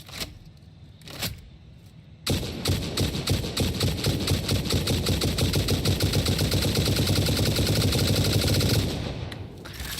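In the video game Satisfactory, a rifle loaded with turbo rifle ammo fires a long, rapid, evenly spaced stream of loud shots after a few single early shots, holding until near the end.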